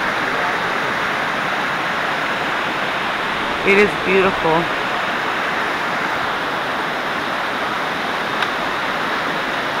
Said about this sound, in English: Just hear that water, guys. Just hear it.